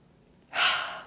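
One deep breath drawn in through the nose or mouth, close and airy, starting halfway through after a quiet pause and fading slightly as it ends.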